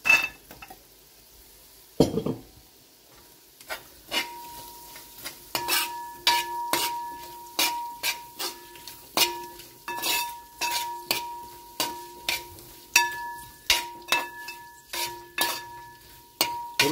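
Potatoes stirred into sizzling, frying spice powders in a pan for a Kerala-style nadan chicken curry, with a steady run of repeated spoon scrapes and clinks against the pot, close and distinct.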